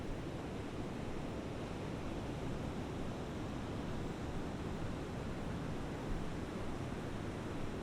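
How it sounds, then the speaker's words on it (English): Gentle waves wash onto a quiet beach shore, a soft, even, continuous rush with no distinct breaks, faint and distant, with no voices. "You can hear the waves gently lapping against the shore."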